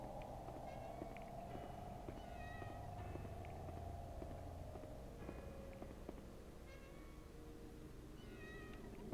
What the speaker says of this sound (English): I'm definitely hearing a cat.